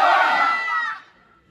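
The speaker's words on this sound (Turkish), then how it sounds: "Buradan bağırıyor. Ses öbür tarafta duyuluyor. Yankı yapıyor." A loud shout rings out at the Chichen Itza pyramid in Yucatán, Mexico, and its echo trails off over about a second in the open air before fading to near silence.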